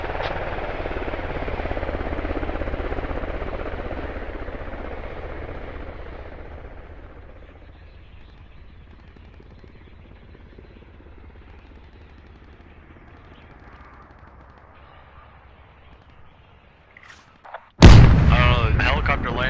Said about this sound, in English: I've got my heli hovering around here.